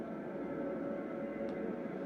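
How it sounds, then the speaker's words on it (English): Faint, steady drone of an airplane passing overhead at a train station in Train Sim World 2, a distant low hum with no voices. "But plane flying overhead."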